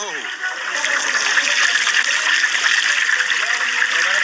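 Water is poured for cooking while a whole piglet is prepared for deep frying, along with salt. A steady, close rushing splash holds evenly for several seconds, with a brief murmur at the start.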